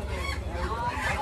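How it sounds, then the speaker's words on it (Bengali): Desi chickens cluck and fuss at a busy market, a dense, steady mix of fowl calls under surrounding crowd noise and voices. "এই তো বেশি মুরগি"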